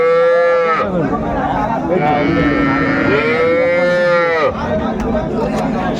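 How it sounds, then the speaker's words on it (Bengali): A Sahiwal cow with her calf at a busy cattle market, giving one long, loud, close moo that bends in pitch and runs for several seconds over faint crowd noise. "সামনে একটা চমৎকার গাভী বাছুর বেশ সুন্দর কোয়ালিটি"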